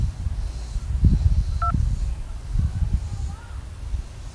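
A single brief touch-tone keypress beeps once while an automated phone menu voice speaks, entering a menu choice on a bill-payment line.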